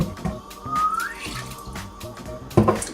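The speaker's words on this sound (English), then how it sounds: "So let's start with quarter cup of apple cider vinegar" A quarter cup of apple cider vinegar poured into a blender, a short trickling splash of liquid with a brief louder gush near the end.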